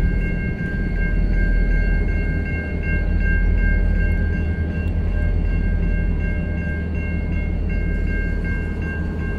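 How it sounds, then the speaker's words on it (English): A train rumbles past close by in downtown Dartmouth, a heavy continuous roar with steady high tones ringing over it, loud and unbroken for several seconds. "Train's coming. Look at this."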